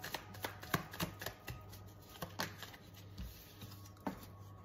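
Tarot cards shuffled for a reading, giving a steady run of soft, quick riffling clicks and papery slaps, close up, with a faint high tone sitting in the background.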